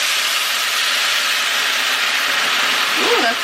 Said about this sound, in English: Ooh, that's steamy and hot.